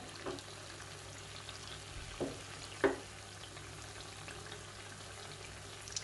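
Nei appam fries in ghee until crisp and brown on both sides. A faint, steady sizzle carries on quietly, broken by a few soft taps and bubbling pops.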